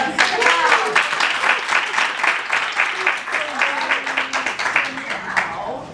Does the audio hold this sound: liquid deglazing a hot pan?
no